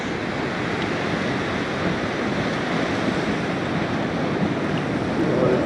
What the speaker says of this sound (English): We're just about to get to the beach at Baradela cruise.